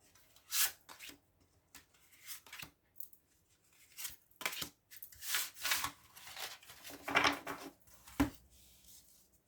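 Tarot cards being shuffled and drawn for a reading, heard as a close, quiet series of brief papery rustles and slides separated by pauses.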